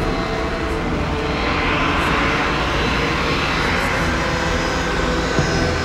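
A fixed-wing aircraft roars steadily through a takeoff run, its engine noise broad, loud and unbroken from start to finish, with no voices over it.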